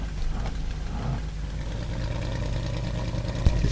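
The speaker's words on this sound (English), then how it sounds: "I shall demonstrate it with giving a little bit of gas here with the throttle." A simulated Messerschmitt Bf 109 E-4 engine in a flight sim video game is throttled up from idle, a steady droning rumble that holds close and loud and swells slightly toward the end.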